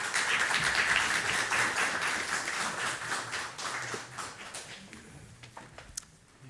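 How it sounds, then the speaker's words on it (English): An audience at a public lecture on education claps, starting as dense, loud applause and gradually thinning to scattered claps before dying away. "A round of applause, please."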